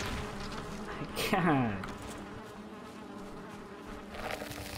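Bees swarm around a beehive in the Viking survival game Valheim, with a steady insect buzz throughout and one bee zipping close past in a rising-then-falling whine; a voice briefly speaks over it.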